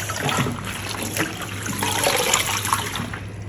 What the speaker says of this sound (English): I rinse it twice.